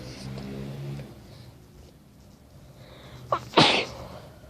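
A single loud sneeze, with a short sharp intake of breath just before it, bursts out near the end after several seconds of quiet, murmuring background.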